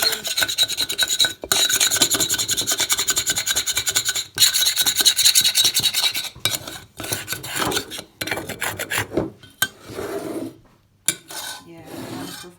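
Steady, close rasping strokes scrub across a burnt pan in quick rhythmic bursts, pausing briefly between passes and thinning to lighter, sparser rubbing toward the end.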